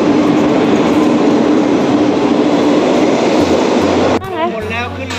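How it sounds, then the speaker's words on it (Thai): A train arrives at Yala railway station in southern Thailand with a loud, steady roar and rumble that cuts off near the end, followed by voices talking. "ในที่สุดรถไฟก็มาแล้ว"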